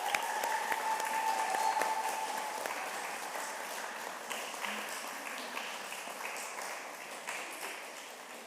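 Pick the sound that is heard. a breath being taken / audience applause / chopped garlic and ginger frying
audience applause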